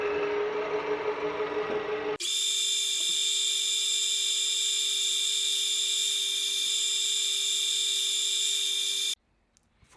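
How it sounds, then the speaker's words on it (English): A drill boring the smallest hole in a silver-wire drawplate gives a steady, high, smooth whine. It holds evenly for about seven seconds, then cuts off, with a brief lower machine hum before it starts. "This is the smallest hole, and drilling it is such a smooth job."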